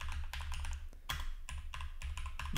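A computer keyboard is typed on up close in quick, irregular clusters of clacking keystrokes, quiet overall, with no one speaking.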